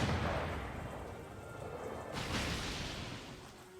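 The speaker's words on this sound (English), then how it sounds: "it's the bombarding of the French!" Cannon bombardment in the video game Banner of the Maid, heard as a dull, rumbling wash of distant booms and noisy blasts, moderately faint and swelling slightly midway, with no talking.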